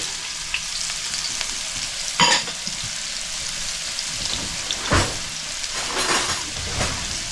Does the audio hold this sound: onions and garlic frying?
yes